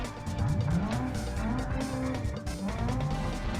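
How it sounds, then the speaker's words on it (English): Race car engine and tires during a handbrake turn in a close race between show cars, a Covet and a 240 BX, with a continuous loud engine drone and sliding tire squeal rising and falling throughout. "Handbrake turn."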